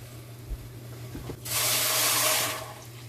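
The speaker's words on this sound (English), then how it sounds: "Now I'm going to add water." Water pours from a tap into a pot of tamarind sauce for doubles, a steady hissing rush lasting about a second and alone, after a few faint clinks.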